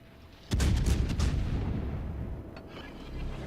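Naval gunfire from warships in World of Warships, a single sudden heavy cannon boom followed by a long rolling rumble that slowly fades, with a faint second report near the end.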